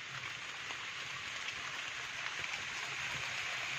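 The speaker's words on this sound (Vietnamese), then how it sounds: "Trời đang đổ cơn mưa nha mọi người nhé." Steady rain falls and patters on surfaces outdoors, a continuous even hiss with no voices.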